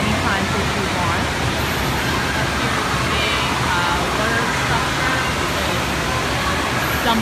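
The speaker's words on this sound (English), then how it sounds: "Dumping of the water" Water crashing down from a dumping feature at an indoor water park, a loud, continuous roaring wash of splashing that fills the space, with a busy echoing hall behind it.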